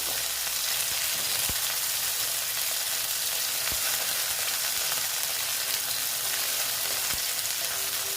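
Tomatoes and onions fry in a pan for a pabda fish posto dish, giving a steady, dense sizzle that runs unbroken throughout, with a few faint clicks of a spatula.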